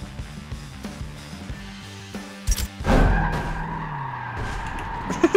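A race car in the Forza Motorsport 7 video game slides with a loud, rising tire skid and slams into a tire wall, following a steady engine drone. The engine keeps running after the impact.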